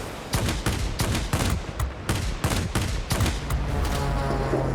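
Aircraft guns firing in World of Warplanes, loud rapid bursts of gunfire in quick succession, with a low engine drone underneath.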